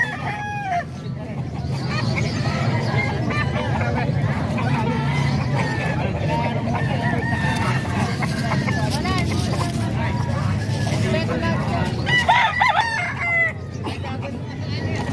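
A pet rooster crows loudly several times nearby, with hens clucking around it and a murmur of voices and a passing car in the background.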